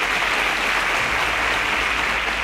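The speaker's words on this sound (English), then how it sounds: "A round of applause for them." A studio audience claps for contestants on a Nigerian schools quiz show, a loud, continuous wash of many hands clapping with no letup across the whole stretch.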